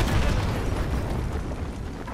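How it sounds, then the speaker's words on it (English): Artillery explosions in a Modern Warfare video game mission, a heavy, dense rumbling boom that fills the whole stretch, loud and sustained, slowly easing in intensity. "Fire mission received. Artillery inbound."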